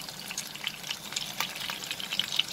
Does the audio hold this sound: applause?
no